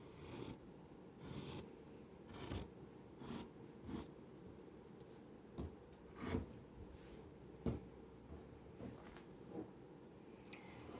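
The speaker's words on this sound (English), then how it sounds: "we're going to cut on this line that we drew" Scissors or a blade cutting quilt blocks along a drawn line, a quiet series of separate soft snips and rubbing strokes, close and faint, with gaps between cuts.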